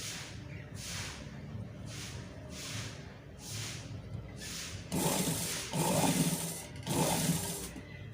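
Sewing machine stitching a neckline with piping fabric, running in rhythmic bursts of fast whirring, with several louder, fuller runs near the end; close and steady with no talk.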